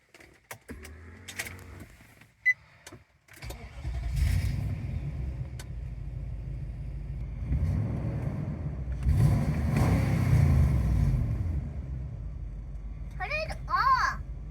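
A car fitted with a Magnaflow catback exhaust starts from inside the cabin: a few clicks, then the engine catches and settles into a low, rumbling idle with a brief rev, while someone talks near the end.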